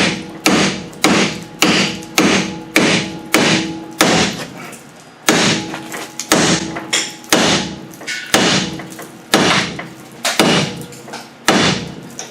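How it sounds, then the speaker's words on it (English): Heavy hammer blows strike a rusted brake disc on a Buick in a steady rhythm, each hit a loud clanging thud with a short ring, close by and continuing throughout. "we're just going to get a hammer and try to pound it off"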